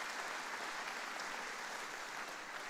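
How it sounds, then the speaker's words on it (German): Steady, dense clapping from a church congregation, sustained at an even level throughout with no voices breaking through. "wir geben dem Herrn einen Applaus dafür"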